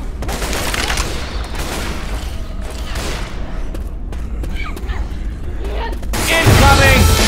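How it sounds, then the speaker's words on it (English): Pipe bomb detonation in Left 4 Dead 2, a loud blast rising out of a steady roar of in-game gunfire and chaos near the end, with voices shouting over the din. "Pipe bomb."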